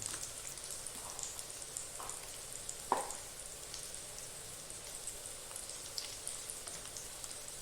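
Ginger, green chilies and garlic fry in a pan with a soft, steady sizzle, broken by a few light scraping clicks as they are stirred.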